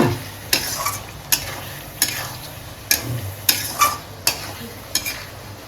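Potatoes frying with spices in a pan on a Bengali-style fish curry stove, a steady sizzle broken by sharp, regular scraping clacks of a spoon stirring roughly every second, close and fairly loud.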